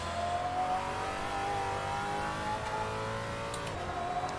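A race car engine accelerating on a circuit, a sustained rising engine whine at steady loudness, heard alone without voices.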